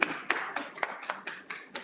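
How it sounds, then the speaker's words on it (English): A few people clap in a steady, even rhythm, about eight sharp claps spaced evenly, fairly faint and sparse rather than a full audience ovation, at a university hackathon closing session. "So let's give a big applause to all of this"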